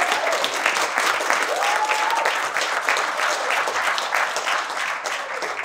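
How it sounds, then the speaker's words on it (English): A graduation ceremony audience applauds the leadership academy class of 2019, steady dense clapping throughout at moderate loudness with a faint voice briefly audible beneath. "just one more round of applause for our graduating class of 2019."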